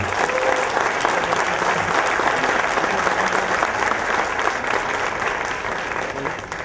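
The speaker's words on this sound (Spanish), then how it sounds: "También un aplauso." Sustained, dense applause from a seated audience at a Tamaulipas judiciary inauguration ceremony, steady and loud throughout, easing slightly at the very end.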